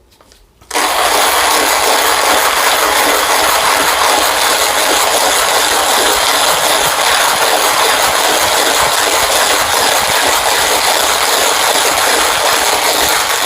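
A coffee grinder grinds just over 19 grams of Honduran Touchy Coffee beans for pour-over, a loud, steady whirring roar that starts abruptly and runs unbroken to the end, with no talking.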